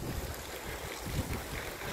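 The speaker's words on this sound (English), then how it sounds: "It's still very windy, so it's not so practical to make the videos here." Steady outdoor wind in the UK buffeting the microphone, a continuous low rumble with faint gusts and no voices.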